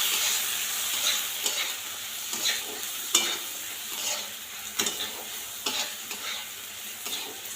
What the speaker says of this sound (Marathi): हे सर्व मिश्रण हलवून घ्यायचं